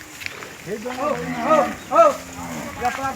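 Several hungry cows in rural Gujarat moo repeatedly in long, low calls, close by and fairly loud, with a few overlapping lows spread across a few seconds.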